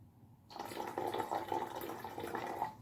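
Water pours from a tap into a bottle for a blobs-in-a-bottle science experiment, starting abruptly after a quiet moment and running as a steady, splashy fill for over two seconds before easing off.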